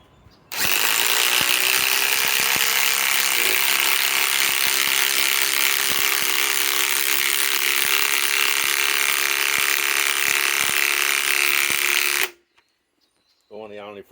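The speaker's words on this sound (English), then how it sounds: "That means now I'll be drilling." A Ryobi PSBIW25 compact impact wrench on an 8 Ah 21700-cell battery drives a screw into wood: one loud, continuous rapid hammering burst for about twelve seconds that stops abruptly, followed by quiet.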